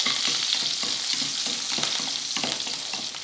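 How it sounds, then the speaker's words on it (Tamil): Garlic, curry leaves and dried red chillies fry in hot oil, a steady close sizzle broken by regular scraping stirs of a spoon through the pan. "கொஞ்சம் கருவேப்பிலை ரெண்டு வரமிளகாய் சேர்த்து நல்லா வதக்கி விடுவோம்"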